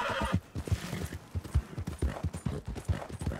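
A horse whinnies over steady clip-clopping hooves in Red Dead Redemption 2, with game sound effects behind them. The hoofbeats keep a quick, even rhythm.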